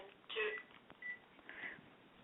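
A mobile phone beeps with an incoming call: a few short, faint electronic tones at an irregular pace over a quiet background, with no talking.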